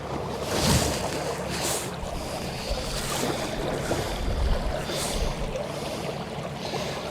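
A Minn Kota Endura Max 55 trolling motor running on a pond, a steady loud whirring drone with water wash churning around it, continuous throughout with no speech.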